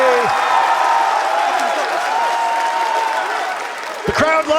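A large arena crowd at a Rainbow Six Siege Major finals in Atlanta cheers and applauds in a dense, sustained roar, with a commentator's voice talking over it throughout.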